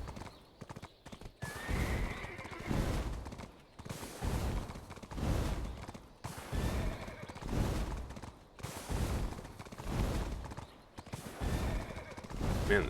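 A horse gallops in the online game Black Desert Online, with steady, rhythmic clip-clop hoofbeats running continuously throughout and occasional whinnies, loud and close.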